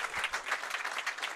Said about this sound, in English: And a round of applause from the Fairlanes Moncton, New Brunswick crowd.